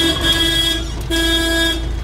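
A vehicle horn beeps repeatedly in short close toots, used to call wild animals to feeding troughs at an eco reserve near Ojén, with a low engine rumble underneath and no talking.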